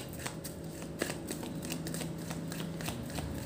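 Tarot cards being shuffled close up, a steady run of quick papery riffles and flutters with a few sharper snaps, played alone with no talking.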